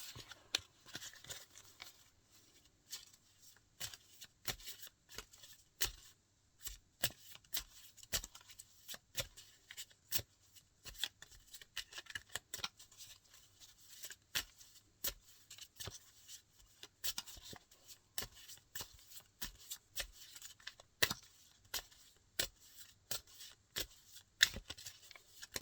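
Love Oracle cards being shuffled by hand, giving a long, steady run of quick, soft papery flicks and riffles, close and quiet throughout.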